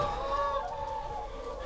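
Chickens cluck and warble in a short burst, with several birds calling close by in a brief, continuous stretch of fowl chatter and no voices.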